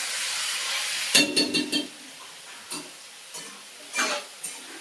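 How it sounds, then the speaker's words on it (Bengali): Pointed gourd (potol) frying in an iron wok gives a steady soft sizzle and hiss. Sharp scraping clatters of a stirring utensil against the metal come in a quick cluster and then at spaced intervals. "এদিকে আমার পটলগুলো ভাজা হয়ে যাচ্ছে"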